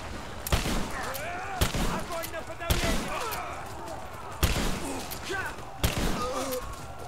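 Gunfire in the video game Rise of the Tomb Raider: five sharp shots spaced about a second apart, each cracking out and ringing briefly, with a faint voice murmuring between them.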